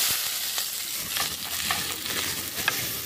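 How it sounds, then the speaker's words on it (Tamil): Chopped onion fries in hot oil with popped mustard seeds, a dense, loud, steady hiss with faint stirring ticks, close by. "எண்ணெய் சூடாயிடுச்சு, கடுகு சேர்த்துக்கலாம். கடுகு பொரிஞ்சிருச்சு, கட் பண்ணி வச்சுக்க வெங்காயத்தை சேர்த்துக்கிறேன்"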